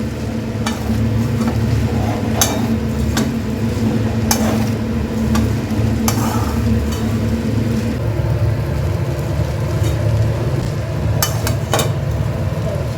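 A steady, loud sizzle of vegetables cooking in a pan for mixed chow noodles, with salt and a spoonful of sugar added, as a spatula scrapes and taps the metal in irregular strokes, with no talking.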